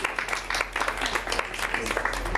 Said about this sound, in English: Round of applause for Mwadiji.